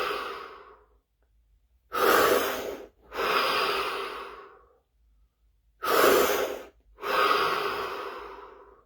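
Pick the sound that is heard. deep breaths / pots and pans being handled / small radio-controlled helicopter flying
deep breaths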